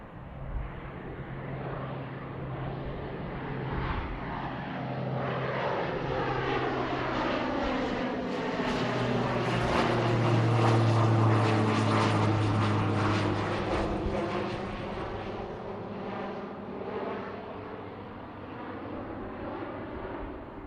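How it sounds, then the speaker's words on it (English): A Pilatus single-engine turboprop departs from Boeing Field, its propeller drone building to a close, steady roar and then slowly fading with a falling pitch as it moves away. "So we do have an aircraft on arrival here. It's another Pilatus."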